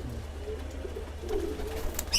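Young pigeons kept as fighter birds give soft, low cooing and bird calls, close by and steady throughout, with no talk over them.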